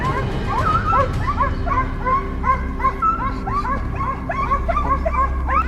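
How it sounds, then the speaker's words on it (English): Hunting dogs bark and yip in rapid, overlapping bursts during a wild boar hunt, fairly loud and continuous throughout, with a low rumbling background. "The distant barking of dogs signaled that the prey was near."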